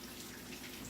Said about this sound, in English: I have the water on for my asparagus.